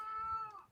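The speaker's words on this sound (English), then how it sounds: "My cat is getting really, really annoyed with me now." An annoyed cat lets out a single close, drawn-out meow that rises and then fades, clear against a quiet room.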